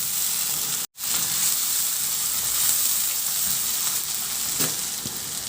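Tomatoes sizzle steadily in a hot pan while being sautéed and stirred, a continuous close frying hiss with a brief silent cut near the start and a faint scrape of stirring later on.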